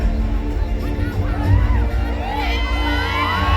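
A crowd of supporters at a singing contest during a provincial festival in Lopburi, Thailand, cheering and shouting together in a steady, loud wash of voices with children's shouts and whoops rising above it.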